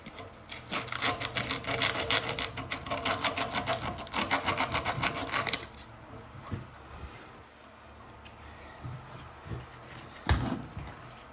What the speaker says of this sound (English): Clean this flywheel up.